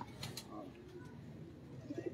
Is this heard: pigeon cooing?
yes